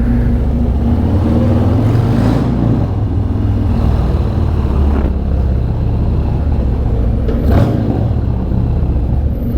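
Loud, deep rumble of a car engine through a Bassani Road Rage aftermarket exhaust with a throaty tone, running steadily with a couple of brief revs rising over the drone.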